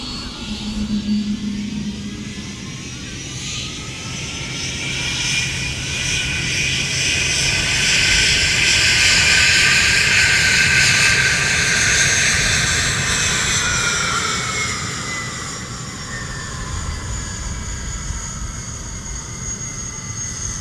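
An A380 airliner taxiing past at MSP airport, its jet engines building to a loud, close roar with a rising whine that peaks midway and then slowly fades as it moves on.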